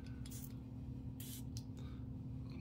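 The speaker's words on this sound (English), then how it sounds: "It's got that nice pressure sensitive sprayer." Spray pumps from a Lattafa Maahir Black Edition perfume bottle, a few short airy hisses spaced across a steady low background hum, close and fairly quiet.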